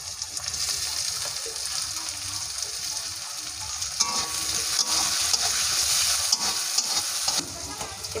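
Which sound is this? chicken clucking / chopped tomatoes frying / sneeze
chopped tomatoes frying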